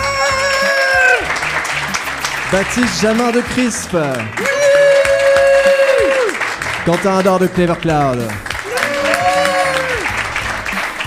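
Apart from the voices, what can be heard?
audience applause for podcast guests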